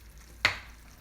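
A single quick scrape of a spoon stirs chicken and chorizo jambalaya in a pan, a brief close swish over a faint background sizzle, with no talking.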